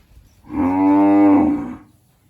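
A red Thai cow on a farm in Buriram province lets out a single long, loud moo close by, a rich droning call that swells and fades over about a second.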